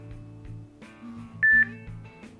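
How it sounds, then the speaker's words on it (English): A custom notification tone rings out on a Samsung Galaxy S5 phone, a short bright two-part beep heard near and fairly loud over a faint tonal backdrop with no talking. "when you're going to receive a notification, this one will start singing"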